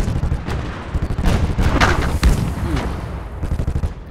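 Big gun firing in the World War II strategy game Gates of Hell, heavy booms amid a dense clatter of rapid shots and battle noise, loud and close, continuous throughout.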